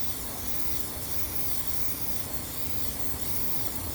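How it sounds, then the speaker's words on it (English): Cleaner sprays in a steady, close hissing burst onto a motorcycle chain to break up gunk, continuous and loud for the whole stretch with no talk. "spraying some of this cleanup on this chain in order to break up a lot of the gunk and stuff that are on the chain"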